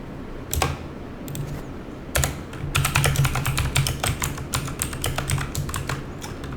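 Code being typed on a computer keyboard: bursts of rapid, close key clicks, a few isolated taps first, then a dense run of keystrokes over a low background hum.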